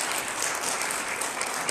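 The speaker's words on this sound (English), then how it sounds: "Another big round of applause for" Convention audience at a customer service week event in Botswana applauding, a dense continuous burst of many hands clapping, steady and loud for the whole short stretch.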